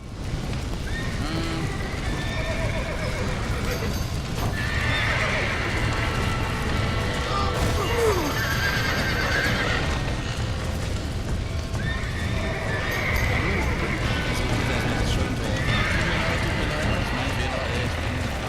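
Horses neighing and galloping in Red Dead Redemption on PlayStation 3, loud whinnies and rapid hoof clip-clop in a busy, chaotic scene, with cattle lowing and voices shouting over the constant din.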